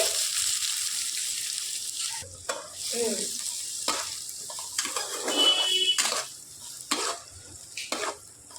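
Chopped onions hit hot oil with cumin and mustard seeds, bursting into a sharp sizzle broken by repeated scraping stirs that come and go in uneven strokes, close and fairly loud, with no talking.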